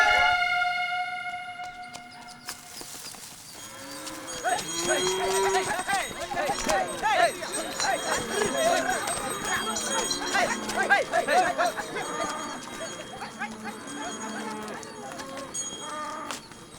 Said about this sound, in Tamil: ஏ தாமரை, என்ன நீ மாடு பிடிச்சிட்டு வர?